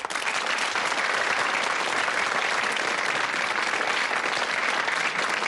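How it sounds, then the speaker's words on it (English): A studio audience at a 1984 British teen quiz show applauds new school contestants, a steady dense round of clapping that stays loud and even throughout, with no talk over it. "let's give an extra round of applause for our new contestants,"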